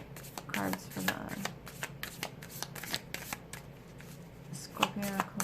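Spirit oracle cards from an Island Wellness deck being shuffled by hand, a run of soft riffling bursts and slaps at close range, with a voice talking intermittently over them.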